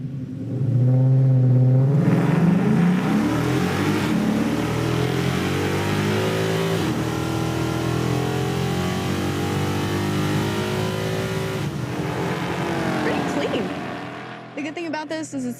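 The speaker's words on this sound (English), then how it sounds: "Finally, we see a good burnout out of it." A Chevrolet Nova drag car with a 9-inch rear end and EFI roars through a burnout and launch. The loud engine revs climb and fall in sweeping pitches with tire squeal over many seconds, and a commentator talks over it.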